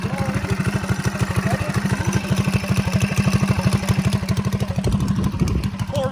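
A Predator Stage 3 engine on a three-wheeled minitrike runs nearby with a rapid, steady chugging thump. The loud, even rhythm continues throughout, and people talk under it.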